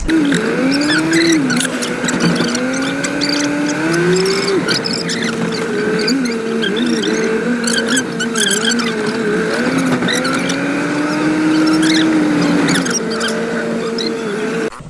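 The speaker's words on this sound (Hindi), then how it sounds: "देखिए गाड़ी अभी चल रहा है" Car driving with a steady engine drone, shifting whines and tire noise continuing evenly for about fifteen seconds, heard from inside the vehicle with no talking.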